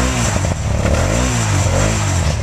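A Honda Transalp 700 motorcycle engine revs up and down close by, its pitch rising and falling in a couple of quick throttle blips over a steady idle, with no talking.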